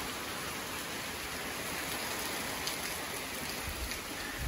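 Light rain falls steadily beside a canal, a soft even patter of drops on surfaces and oak leaves that holds constant throughout with no voices.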